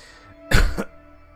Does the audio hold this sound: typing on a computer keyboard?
no